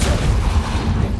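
The Repulsor spell cast in Hogwarts Legacy gives a dense, booming blast that fills the whole short moment. It is loud and heavy in the low end, with no speech over it.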